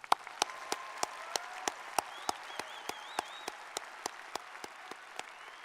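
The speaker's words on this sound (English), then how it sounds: "Let's give them a round of applause." A crowd applauds graduates at the Iowa State University fall commencement, sustained clapping throughout with a series of sharper, regular louder claps standing out above the steady wash.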